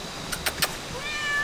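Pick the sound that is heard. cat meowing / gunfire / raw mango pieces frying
cat meowing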